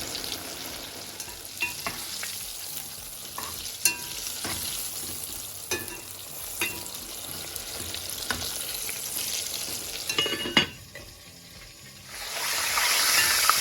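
Cod fish frying in cooking oil and butter in a pan, a steady close sizzle broken by regular light clicks of utensils, a sharper knock near the end, then a louder bubbling hiss.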